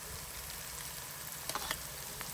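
Onions frying in oil for a curry in a village home kitchen, a steady soft sizzle with a few brief crackles and pops partway through, close and alone with no voices.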